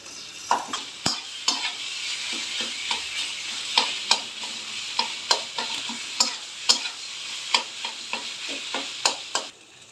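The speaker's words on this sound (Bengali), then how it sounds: "ভালো করে নেড়ে নেব এখন।" Taro leaves cooked with chickpeas, salt, turmeric and green chilli are stirred in a pan, a steady run of scraping spatula strokes over a soft sizzle, close and moderately loud with no talking.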